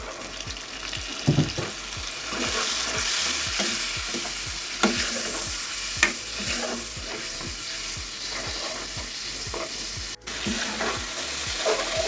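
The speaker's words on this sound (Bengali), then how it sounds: "অল্প করে পানি দিয়ে কষিয়ে নেব" Chili masala paste with onion, turmeric and red chili powder sizzles in a pan after a splash of water, as a spoon scrapes and stirs in a steady rhythm of close, repeated strokes.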